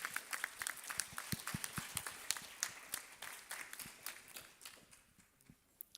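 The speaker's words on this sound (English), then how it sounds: "let's give them a big round of applause" Audience applause after a school district student program presentation, scattered claps rising into steady clapping then thinning out toward the end, moderately distant in a hall.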